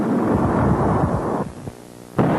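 Naval guns fire during a wartime shore bombardment, heavy booming blasts rolling into a thunderous rumble, with a sudden sharp report near the end, loud and without voices.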